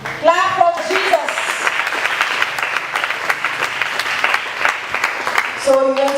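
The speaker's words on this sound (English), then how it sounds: "Clap for Jesus." A church congregation claps during a deliverance service, with sustained crowd clapping in the middle, while voices speak or call out near the start and again at the end.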